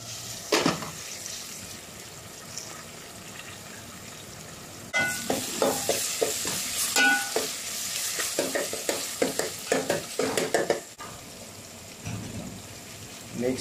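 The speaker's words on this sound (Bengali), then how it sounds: "একটু নেড়ে দিচ্ছি।" Bhuna khichuri stirred in a hot pot: a quiet sizzle, then a run of rhythmic scraping and stirring strokes over frying hiss in the middle, easing back to a low simmer near the end.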